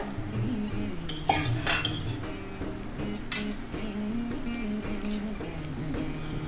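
A spoon scrapes and clinks against a metal vessel while mixing rice, with irregular scraping strokes and a few sharper taps, fairly close.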